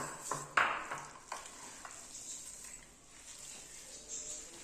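Sugar being stirred into vermicelli in a pan for sheer khurma, a few sharp scrapes and clinks of a spoon over a faint, steady sizzle, close and with no talk.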